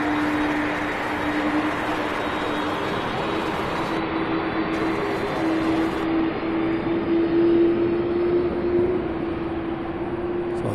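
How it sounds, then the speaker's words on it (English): An Airbus A300 taxiing and turning at Louisville International's UPS Worldport, a steady loud jet engine whine with a sustained tonal hum and broad rumble that holds throughout with slight swells. "That one taxis the A300 is turning."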